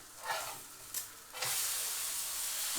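An egg, ham and cheese toastie frying in a pan, a few soft scraping presses, then a loud steady sizzle as it is squashed down, close and continuous.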